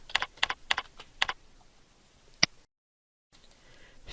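A year is typed on a computer keyboard: four quick, close keystrokes in a steady rhythm, then a short pause and one more sharp key press before brief silence.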